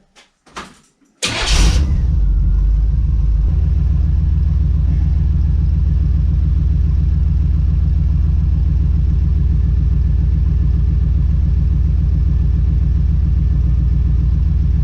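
A 1982 Chevrolet S10 truck with a swapped V8 and new exhaust cranks briefly, catches, and settles into a loud, steady, close idle rumble that holds without pause.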